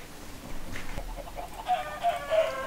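Chickens clucking in Minecraft, a few short soft clucks near the end of the clip with no talk.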